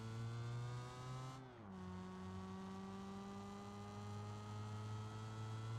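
A rotary-engine car in the BeamNG driving game runs with a steady, faint droning hum that dips briefly and then holds an even pitch, with no talk.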